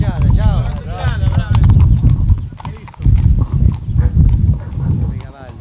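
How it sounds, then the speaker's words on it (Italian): Horses out on a group ride through a town in Gizzeria, Calabria, their hooves clip-clopping steadily and close by, with a whinny and people talking over the hoofbeats. "Bei cavalli."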